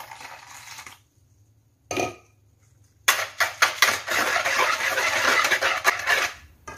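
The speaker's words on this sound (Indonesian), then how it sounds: "Telur yang udah dicampur gula ini saya aduk dengan menggunakan whisk." A whisk beats eggs mixed with sugar in a bowl, first in a brief burst and then as a dense, rapid, continuous clatter and scrape against the bowl, close and fairly loud.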